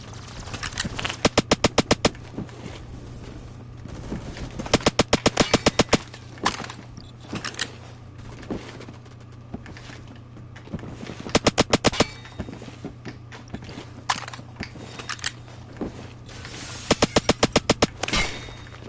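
Gunfire in the Phantom Forces shooter game, including a Chris Vector submachine gun: repeated rapid automatic bursts of sharp shots recurring every few seconds over steady background game noise, with occasional talk.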